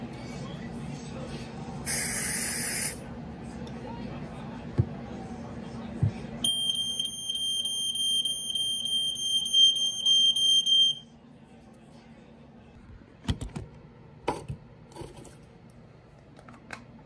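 A Probe 601 Christmas tree smoke alarm sounds during a test, giving a loud, steady high-pitched electronic tone for several seconds, with handling clicks and knocks before and after it.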